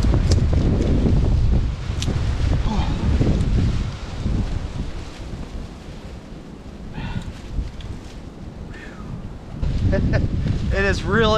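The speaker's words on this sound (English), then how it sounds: "It is really, really windy." Strong, cold wind buffets the microphone outdoors in winter, with loud roaring gusts that ease and return and a few faint voice fragments in between.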